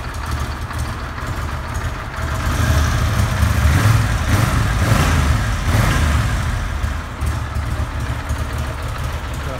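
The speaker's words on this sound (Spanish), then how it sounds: "Así que bueno, esta es la moto." Moto Guzzi Quota 1100 ES motorcycle engine idling nearby, a steady low mechanical rumble that swells slightly in the middle before settling back to an even idle.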